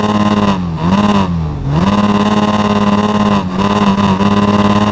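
A 2024 Suzuki Hayabusa fitted with a Yoshimura exhaust revs hard and loud up close, holding a steady high engine note that dips briefly three times before climbing back, with no voices.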